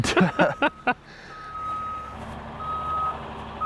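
A delivery truck carrying a hot tub reverses, its backup beeper sounding as a steady repeating tone over engine rumble, preceded by a few loud knocks or thumps at the start.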